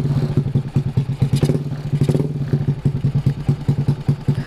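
A Honda Beat motorcycle fitted with a PE24 carburetor runs close by, its engine firing in a fast, even train of loud thumping pulses with brief surges in the middle and no talk.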